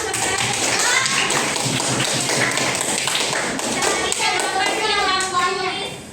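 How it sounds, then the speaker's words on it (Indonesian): A classroom of pupils claps together in a burst of fast, overlapping applause that carries on for several seconds, with children's voices mixed in before it fades. "Beri tepuk tangan buat Tiara dulu dong."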